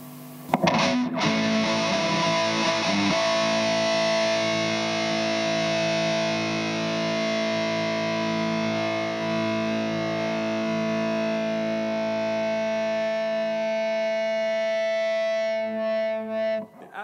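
Sustained distorted chord from a Hagstrom Swede Gold Top electric guitar played through an overdriven amplifier, holding steady and loud for about fifteen seconds before cutting off, with no voices.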